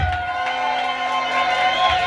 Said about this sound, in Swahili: Pigia Yesu makofi na kigelegele.